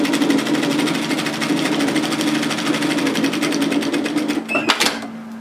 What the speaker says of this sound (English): sew a second line of stitching parallel to the first on the upper side